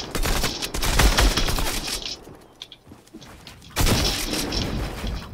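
Rapid bursts of shotgun fire from the video game Fortnite crackle close and loud, with a dense volley, a brief lull, then another burst of shots.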